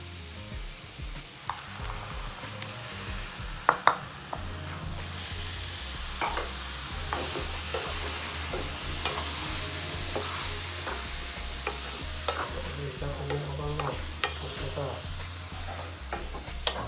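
Tomato puree frying and being stirred in a pan for homestyle chole, a steady sizzle with scraping stirs and brief clatters of the spoon throughout, with faint voices underneath.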